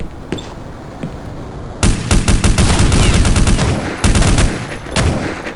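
Rapid automatic gunfire in the video game Counter-Strike, loud and close: a few isolated shots, then sustained bursts of fire that pause briefly and start again.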